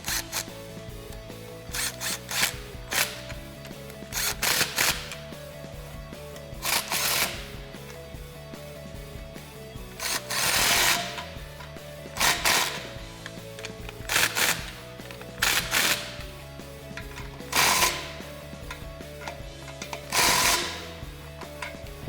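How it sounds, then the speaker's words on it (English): A 15mm wrench tightens exhaust band clamps on a 2015-2017 Mustang GT cat-back exhaust, giving repeated sharp metallic ratchet clicks and clanks in irregular bursts close by. "I'm going to take my 15mm, tighten our band clamps back up"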